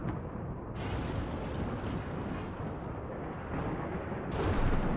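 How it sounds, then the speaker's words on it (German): A sustained heavy rumble of thunder from a dry thunderstorm in RimWorld, a dense roar that stays loud throughout and builds slightly toward the end, heard alone without voices. "Ein trockenes Gewitter?"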